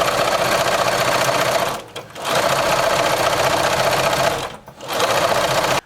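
Sewing machine running continuously with fabric under the foot, stitching right along the groove with zero seam allowance; a loud steady mechanical whir with two brief pauses.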